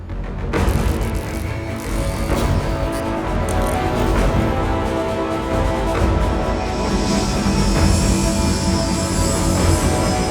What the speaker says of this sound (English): The new jet looks good.